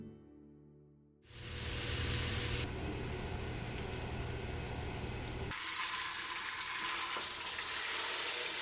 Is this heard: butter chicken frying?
yes